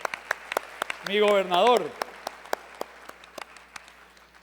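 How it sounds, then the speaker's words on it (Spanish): Scattered, sparse applause from an audience honoring a governor at a Caribe Mundial event in Cartagena: isolated claps spread across the moment, with a voice briefly speaking over them. "Le pedimos repitamos el aplauso para el señor gobernador."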